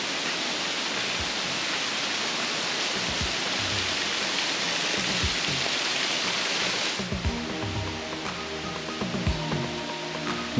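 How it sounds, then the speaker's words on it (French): Waterfall in Bali, a steady dense rush of falling water heard close and loud, its hiss dropping abruptly partway through to a quieter churning with scattered splashes. "C'est plein de cascades."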